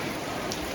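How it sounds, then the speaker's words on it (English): Very heavy rain pouring down on a neighborhood compound, a dense, steady hiss of falling water with no pauses. "Very heavy rain today right now here"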